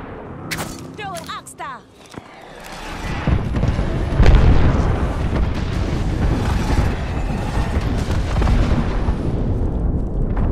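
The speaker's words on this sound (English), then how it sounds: "Target over there. Calling the airstrike." Airstrike explosions in Apex Legends: after some brief clattering, a deep rumbling barrage of booms builds and rolls on continuously, heavy and loud, with a voice briefly over it.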